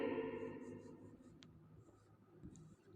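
Pen scratching softly on paper while handwriting the Hindi word मृग, faint and steady under a low background hum.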